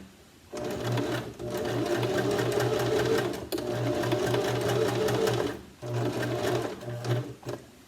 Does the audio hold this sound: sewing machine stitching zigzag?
yes